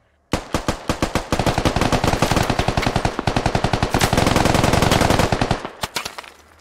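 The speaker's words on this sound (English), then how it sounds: "Yasko takes a couple shots." Rapid automatic gunfire in the military shooter game Squad, long dense bursts of loud close shots that start abruptly and break into a few separate shots as they taper off, no talk.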